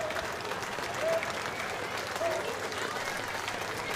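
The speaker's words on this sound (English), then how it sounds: "Big round of applause." Steady applause and crowd noise from spectators lining the route of a 4th of July parade, a continuous even roar of clapping at moderate distance without pauses.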